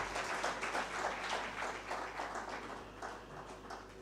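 Applause from a conference audience of insurance brokers in Uganda, a steady wash of many hands clapping throughout, moderately loud and slightly distant in a large hall, with no talk over it.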